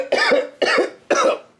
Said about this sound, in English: Wow, I gotta get something for this cough.